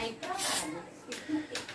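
Lubricant is sprayed onto the nozzle of an airsoft gun in short, close hissing bursts, three quick sprays separated by brief pauses, with a person talking around them.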